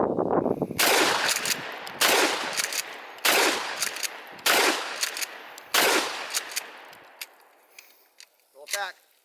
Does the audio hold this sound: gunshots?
yes